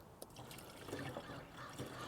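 Washer fluid pours from the side of a plastic bottle, a quiet, soft liquid trickle and gurgle lasting a couple of seconds without any voices.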